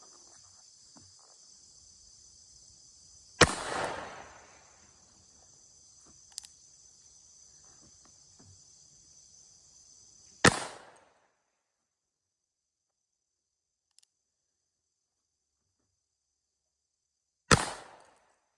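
A black powder cap and ball revolver fires three sharp, loud shots spaced several seconds apart outdoors, with crickets chirping steadily in the background.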